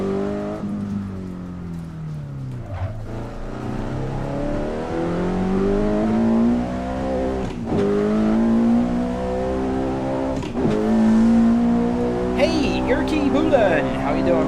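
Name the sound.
car driving on the road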